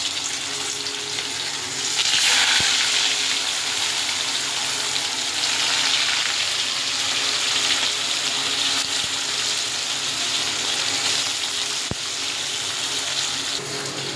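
Pieces of shol fish sizzle in hot oil in a pan, a loud, steady frying hiss that swells when the fish goes in and carries on with a few sharp pops and ticks. No one speaks.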